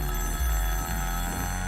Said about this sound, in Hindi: ओफो, मेरे पति का फोन है।